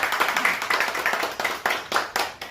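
A crowd claps at a Shiv Sena office-bearer appointment event, with steady rhythmic clapping that holds for a few seconds and swells in regular pulses.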